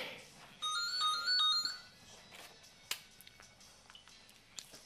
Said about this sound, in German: Das Telefon, geh mal ran.